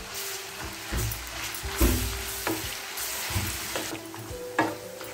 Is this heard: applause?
no